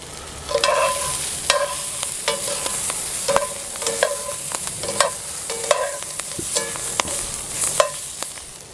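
Brussels sprouts pan-roasting over a campfire, a spoon or spatula scraping and stirring the pan in repeated strokes roughly every second, over a steady low sizzle, close and moderately loud.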